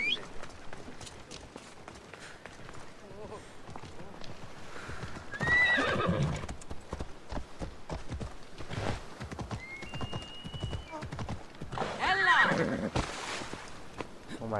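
Horse hooves clip-clop steadily while a horse, on fire in Assassin's Creed Odyssey, neighs loudly twice, with voices talking over the commotion.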